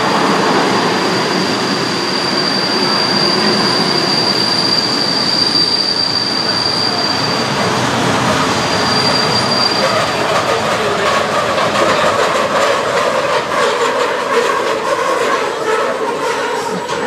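A vintage train rumbles along the rails at close range, with a sustained high wheel squeal early on and steady clattering noise throughout.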